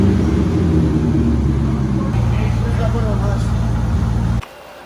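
A C5 Corvette engine starts for the first time after a clutch job, running as a loud, close rumble that shifts partway through and then cuts off sharply near the end, with voices over it.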